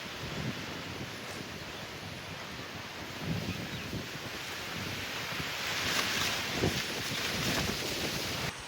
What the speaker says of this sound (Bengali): ঝড়ও উঠে গেছে, ঘুরি ঘুরি বৃষ্টিও পড়ছে